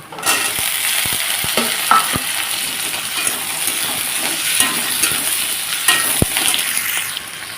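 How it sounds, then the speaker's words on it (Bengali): Onions browned red-brown, frying with ground cumin paste in a pan and stirred, give a steady broadband sizzle with a few sharp utensil taps against the pan, close and fairly loud throughout. "পেঁয়াজটাকে বেশ সুন্দর লাল করে নিয়েছি এখন এগুলো সব একসাথে দিয়ে দেবো"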